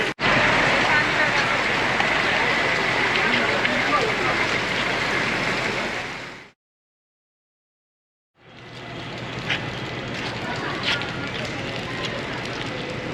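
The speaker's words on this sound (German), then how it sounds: "Ich glaube, es regnet gerade ein bisschen" Steady rain hisses on a surface in Maputo, Mozambique, broken by a brief silent gap before the patter resumes with a few sharper drips.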